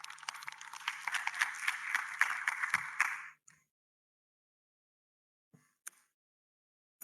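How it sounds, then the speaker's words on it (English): A short burst of conference audience applause, dense clapping for about three seconds that stops abruptly, followed by near silence with a couple of faint knocks. "Please give it an applause."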